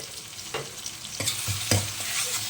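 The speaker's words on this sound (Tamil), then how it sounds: "இஞ்சி வந்து நல்லா பச்சை வாசனை போகிற வரைக்கும் வதக்கிக்கோங்க" Ginger garlic paste sautéing in a pan for a spicy Chettinad mutton gravy, a steady close sizzle broken by a few scraping stirs of the spatula, with no talking.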